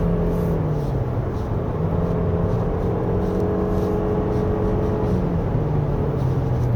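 A 2023 Toyota RAV4 Hybrid AWD engine running at high revs on a winding road, a steady droning hum with a gently shifting pitch, heard from inside the cabin without talk.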